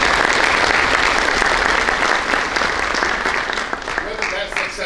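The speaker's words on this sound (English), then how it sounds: "you all deserve a round of applause for yourself" Sustained audience applause at a college's fall State of the College address, a dense, steady wash of clapping from a large crowd that stays loud throughout and eases slightly toward the end.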